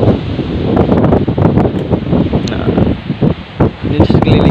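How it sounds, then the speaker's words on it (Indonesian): Large waves roll and crash on a clean white-sand beach, a loud, continuous wash of surf mixed with gusty wind buffeting the microphone, with a voice talking intermittently. "Nah, itu ombaknya besar banget itu."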